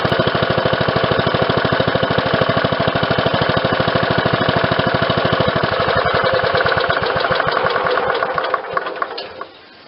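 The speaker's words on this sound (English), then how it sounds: "The engine starts rather magnificently." A Briggs & Stratton small engine fitted with a replacement ignition starts and runs with a loud, fast, steady mechanical chatter up close, then its firing slows and fades as it winds down near the end.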